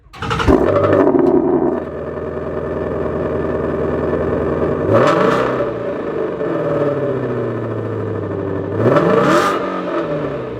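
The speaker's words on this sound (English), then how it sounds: "I'm gonna give y'all a little cold start here." A 2018 Ford Mustang Shelby GT350 cold start: the engine cranks and fires up loudly, revving high twice before settling into a rough, rumbling idle, close by.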